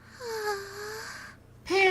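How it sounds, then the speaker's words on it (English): A female character in the Nekopara game pants in drawn, wavering breaths, close and fairly soft, with a brief gap before a louder breathy gasp at the end. "Panting."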